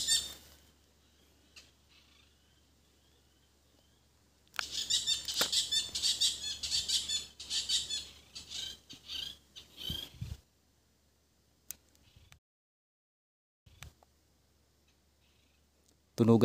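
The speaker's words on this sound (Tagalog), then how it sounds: "tunugan yung mga ibon" Birds call in an old, abandoned forest. Their dense, rapid high chatter lasts about six seconds, then gives way to near silence with a few faint clicks.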